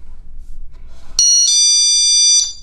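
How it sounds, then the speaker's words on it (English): A window/door home security alarm chime sounds loud and close: a sharp electronic tone bursts in, then a sustained bright multi-tone beep holds for about a second before cutting off, with quiet background before it. "Let's turn the chime on first,"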